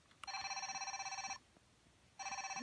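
A small cell phone plays an electronic bell-like ringtone, a fast trilling burst lasting about a second, then a pause before the ring begins again, faint and close.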